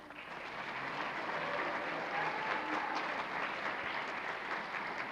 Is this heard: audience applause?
yes